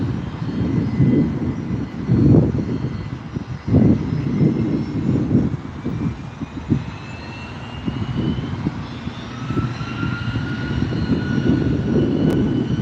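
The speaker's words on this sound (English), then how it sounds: "A Gulfstream G450 going to Kahului with the registration November 465 Foxtrot X-Ray, and it's 13 years old." A 13-year-old Gulfstream G450 business jet departing SNA airport, heard as a steady rolling roar at middle distance that swells and eases in waves over several seconds, with no talk.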